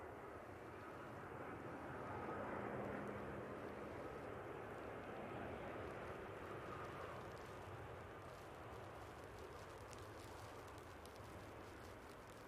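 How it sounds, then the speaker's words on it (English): A TUI airliner landing at Manchester Airport, a distant, broad jet roar that swells and then fades slowly, heard faintly with no talk. "Beautiful landing from the TUI"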